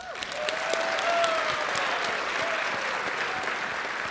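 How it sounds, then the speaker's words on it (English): A convention audience bursts into applause, a dense, steady wash of many hands clapping at moderate distance that holds for several seconds. "Big round of applause for you."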